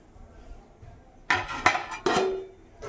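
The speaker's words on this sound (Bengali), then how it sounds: "এই ঢাকা দিয়ে দিলাম" A metal lid set onto a cooking pot of simmering chhanar kofta curry with cauliflower and potato, three close clanks in quick succession with a brief ringing after the last, over quiet room tone.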